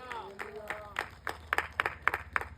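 A church congregation at a sermon claps in a quiet, steady rhythm of distinct handclaps after a brief voice at the start, heard from some distance.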